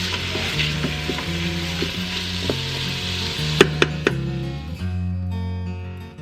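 Vegetables sautéing in an Instant Pot for tomato basil soup, a steady close sizzle and fry with a low hum underneath, broken by several sharp utensil scrapes and clacks against the pot; no voices.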